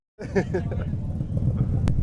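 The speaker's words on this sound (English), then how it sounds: "Let's wait a second. Noisy cars." Noisy cars pass at a Cars and Coffee gathering, their engines giving a steady low rumble that swells in over about two seconds, nearby, with people's voices faintly mixed in.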